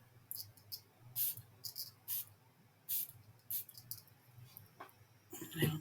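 Water from a small spray bottle misted onto distress stains on a mixed media journal page, heard as a series of short, crisp hissing spritzes in irregular rhythm, close and fairly quiet, with no talking.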